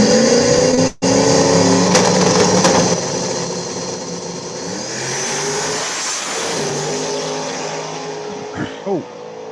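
Drag racing cars making passes at a weekend event: a loud sustained engine roar at full throttle, fading as a car passes into the distance, followed by quieter engine noise and a couple of brief pops near the end.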